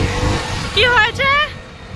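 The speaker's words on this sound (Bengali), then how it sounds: "আমাদের ধর্মতলার বাস এসে পড়েছে" A Dharmatala-bound bus pulls up in busy Kolkata street traffic. Engine rumble rises, then comes a short, shrill tonal squeal or horn burst close by, with traffic noise all around.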